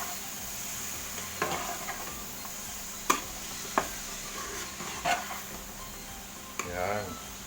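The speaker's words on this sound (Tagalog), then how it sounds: "Haluin ulit." Kangkong stems frying in a pan for Bicol-style kandingga are stirred, with a faint steady sizzle broken by occasional sharp taps and scrapes of the spoon; a voice briefly near the end.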